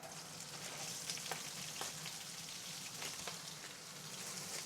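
Vegetables and bean sprouts sauté in a pan with a steady, even sizzle like light rain. Occasional faint clicks of stirring sit under the hiss, and no one speaks.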